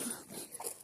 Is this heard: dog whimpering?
yes